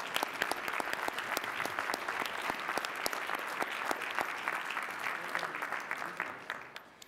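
An audience at the Lehigh University 146th spring commencement in 2014 applauds the new doctors of education and philosophy, a dense, sustained wash of clapping from a large crowd that tapers off at the end.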